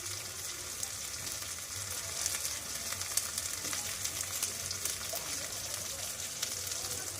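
Chili paste, ginger-garlic paste and turmeric fry in a pan, giving off a steady, even sizzle at moderate distance that holds without a break, with faint background sounds beneath.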